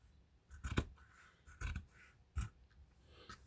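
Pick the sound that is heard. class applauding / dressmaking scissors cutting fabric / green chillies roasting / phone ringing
dressmaking scissors cutting fabric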